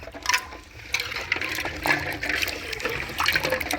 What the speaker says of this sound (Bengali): পুরো জলপাইটা আমি ধুয়ে নিলাম